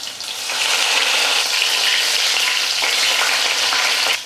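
Crushed garlic cloves and curry leaves fry in hot oil in a South Indian kitchen, making a loud, steady, dense sizzle that holds for several seconds with no talking.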